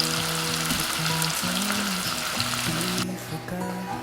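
Onions fry to a crisp in a pan at home, a dense, steady sizzle close up with soft stirring scrapes, while faint music plays in the background and the sizzle eases slightly near the end.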